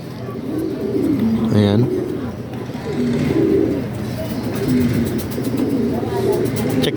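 Racing pigeons coo in repeated soft, throaty calls close by, with someone speaking briefly and faint background noise.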